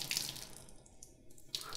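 Water squeezed out of a soaked sponge, a faint, soft trickling and splashing that runs briefly and quietly, heard alone.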